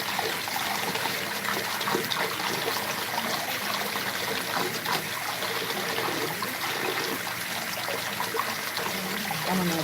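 Hot water runs steadily from a tap for washing off clown makeup, a continuous close hiss and splash that stays even throughout.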